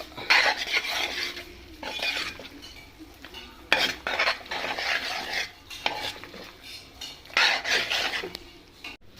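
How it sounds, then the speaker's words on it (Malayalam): A spoon scrapes and stirs pasta through red sauce in a pan, rhythmic rasping strokes with soft clinks against the metal, repeating in bursts with brief pauses between. "നന്നായിട്ട് ഇളക്കി എല്ലാ ഭാഗത്തും ഇട്ടത്തക്ക രീതിയിൽ നന്നായിട്ട് ഇളക്കുക."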